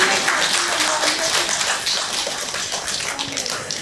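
An audience claps at a lamp-lighting ceremony during a Tagore tribute concert at a music academy, a continuous wash of applause that stays fairly even and fills the room for a few seconds.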